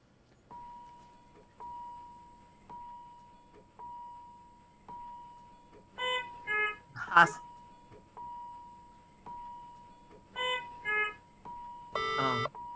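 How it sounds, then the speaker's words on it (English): Hospital alarm sounds assembled into a musical composition, with a steady repeating beep and bursts of layered electronic alarm and call-bell tones, moderately loud and clear. "this entire composition is made up of alarm sounds that one hears in a hospital"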